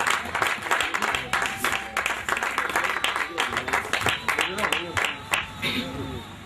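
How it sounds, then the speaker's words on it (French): A church congregation applauds for the pastor, with steady crowd clapping that runs throughout and voices calling and talking over it. "Acclamons le Seigneur pour le pasteur"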